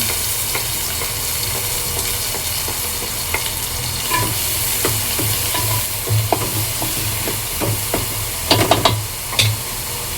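Onion, green chili and curry leaves fry in a hot pan with a steady close sizzle, broken by scattered clicks and scrapes as a spoon stirs, louder bursts near the end.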